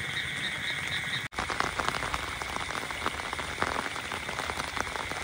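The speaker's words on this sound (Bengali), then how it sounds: "দাদা এটা কি ব্যাং? সোনা ব্যাং, সোনা ব্যাং, বড় তো বড় সোনা ব্যাং।" A golden frog (sona bang) calls in a rain-soaked paddy field, its croaking blending with a steady patter of heavy monsoon rain that fills the whole stretch.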